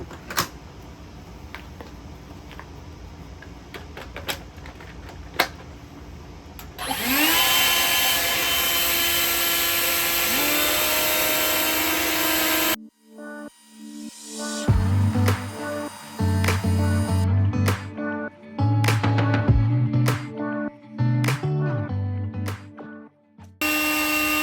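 Cordless leaf blowers, an EGO and a Ryobi, run on high: a steady loud whooshing roar starts partway in, then cuts to a different droning motor with uneven surges and pauses.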